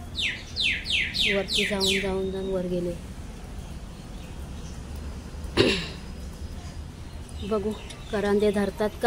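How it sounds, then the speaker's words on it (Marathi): Birds call outdoors behind a house with a garden, sending rapid bursts of repeated chirps at the start and again near the end, while someone talks over and between them. "बाहेर पाठीमागे पक्ष्यांचा आवाज येतोय खूप सुंदर असा"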